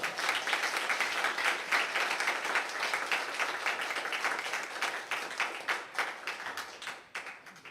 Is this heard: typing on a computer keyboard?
no